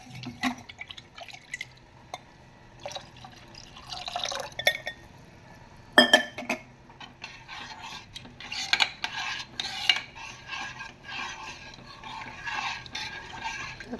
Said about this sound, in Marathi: मी तांब्या धुवून घेण्यापुरतं पाणी घालते याच्यामध्ये